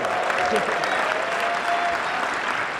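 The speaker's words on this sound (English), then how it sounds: "Clap, please." An audience at a PAX East 2015 online games panel claps steadily in a sustained round of applause, with faint voices mixed in beneath it.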